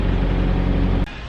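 A stock Scion FRS exhaust gives a steady, low, rumbling drone that cuts off abruptly after about a second.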